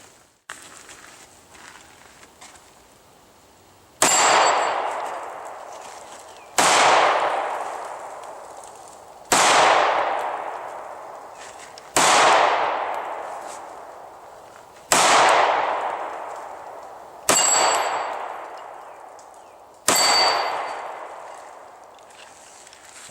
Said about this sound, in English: I'm also going to be shooting, I'll let you know when I'm shooting it, some Hornady Zombie Max carry rounds